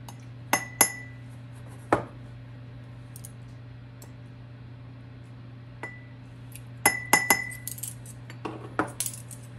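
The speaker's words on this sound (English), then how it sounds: "now we're gonna whisk up our egg with a couple of extracts" An egg is whisked in a bowl with a teaspoon each of vanilla and almond extract for holiday oat cookies, heard as scattered light clinks and taps of a utensil against the bowl over a steady low hum, with no talking.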